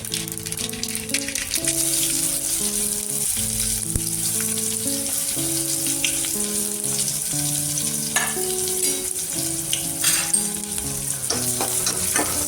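Chopped onion sautéing in a pan of oil with crackled mustard seeds and cumin, a steady dense sizzle with occasional stirring scrapes, close and continuous under soft background music, no speech.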